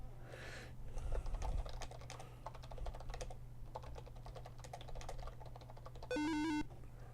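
Rapid touch typing on a computer keyboard during a DOS typing game, a dense stream of quick clicking keystrokes over a low hum, ending in a short electronic beep tune.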